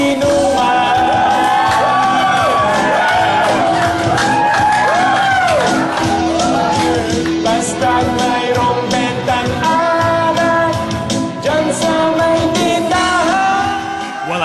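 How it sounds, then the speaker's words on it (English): Loud, lively crowd shouting and whooping over basketball highlights playing on a TV, mixed with continuous music and singing, the cheers rising in swells throughout. "I don't know if the crowd is cheering for me or for the basketball highlights on TV"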